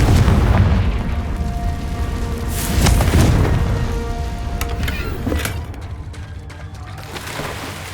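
A Confringo explosive spell goes off in Hogwarts Legacy on PS5, a deep booming blast with rumbling low end, followed by a second burst and crackling game effects that fade over several seconds.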